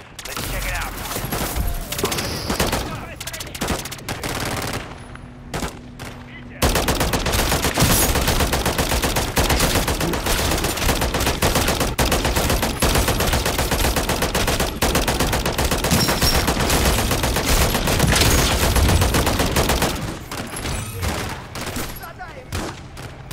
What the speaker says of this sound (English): I'm not shooting a whole lot because I don't have as much ammo as you do in this gun